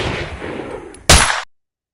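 A single sharp gunshot sound effect cracks loud and close after a low rumbling background, then cuts abruptly to silence.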